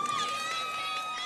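Crowd at a Ramapo ice hockey game at the ACHA Men's D3 National Championships, cheering a goal with a sustained roar that fades slightly over a short span.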